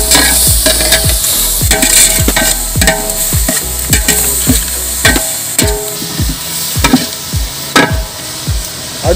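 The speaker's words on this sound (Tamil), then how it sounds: "அடுத்து வெங்காயத்தை கொஞ்சம் சேர்த்துக்கிறோம். கொஞ்சமாக உப்பு சேர்த்துக்கிறோம்." Onions frying with a little salt in a pot for country chicken biryani, loud continuous sizzle with rapid repeated stirring scrapes and ladle knocks close up throughout, no voices.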